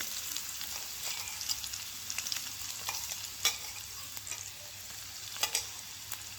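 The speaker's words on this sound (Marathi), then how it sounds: "छान परतून घेऊ आपण। खमंग वास दरवळतो का लसूण आणि मिरचीचा।" Coarsely ground garlic and green chilies sauté in hot oil for a fenugreek-leaf dish, giving a steady soft sizzle broken by occasional scraping stirs of a spoon.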